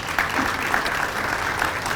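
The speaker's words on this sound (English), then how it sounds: "Let's give Barry and the team at Frontier another round of applause if we can." A crowd applauds the Frontier Airlines team at an airport flight announcement event, a dense, even round of clapping lasting a couple of seconds with no voices over it.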